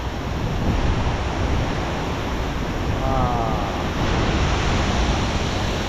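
Haew Suwat waterfall in Thailand, a loud, continuous broadband rush of falling water that stays steady throughout, close and enveloping, with no voices over it.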